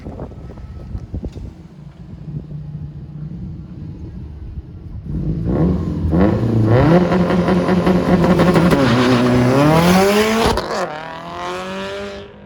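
A Toyota Supra's engine idles, then roars as it launches, revving hard through several rising gear-shift sweeps before easing off, loud and close.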